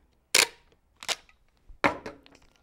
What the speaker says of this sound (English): take another piece of packing tape